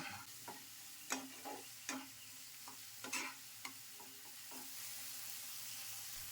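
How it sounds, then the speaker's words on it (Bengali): Spice paste with tomato and onion, for a Bengali fish dish, is stirred and fried in a pan: a steady close sizzle under irregular scrapes and clacks of the spoon against the pan, with no talk. "সমস্ত মশলা খুব ভালো করে টমেটো পেঁয়াজের সাথে মিশিয়ে কষিয়ে নেব"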